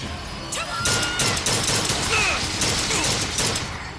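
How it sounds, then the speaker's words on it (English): Rapid, loud bursts of gunfire from the BioShock Infinite video game crack in quick succession, dense and near, with metallic clatter between the shots and a brief voice heard in the mix. "Keep firing!"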